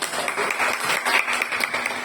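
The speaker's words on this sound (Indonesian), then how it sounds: "tepuk tangan untuk Pak Mukti." Audience at a school teachers' dissemination session applauding, a dense sustained patter of many hands clapping for about two seconds, moderately loud with no talk.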